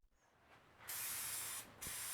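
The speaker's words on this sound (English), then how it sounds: "Spray adhesive was applied to both the foam and the plywood base, just to keep the foam in place while we work." Spray adhesive hisses from a can onto foam and a plywood chair base in two steady bursts, the first longer, close and fairly loud against a quiet room.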